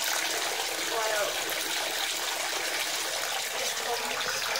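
Hot water runs steadily from a tap into a bath during a bath bomb demonstration, a loud, continuous rushing gush with no pauses throughout.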